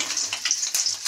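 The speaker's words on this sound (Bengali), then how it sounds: "আমি সব বড়াগুলো এক এক করে ভেজে নিই" Egg fritters frying in a pan, a bright, close sizzle rising and falling over about a second.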